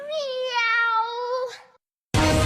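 A cat lets out one drawn-out, wavering meow lasting over a second, close and loud, followed by a short silence and then an abrupt burst of other loud sound.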